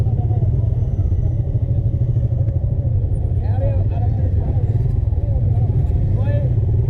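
A group of motorbikes sets off together, a steady, loud engine drone holding throughout as riders talk over it.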